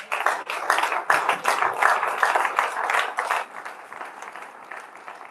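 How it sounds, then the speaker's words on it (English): An audience applauds after a talk at a university event, with dense clapping that holds loud for about three seconds and then thins out and fades. "Please let's give her another round of applause."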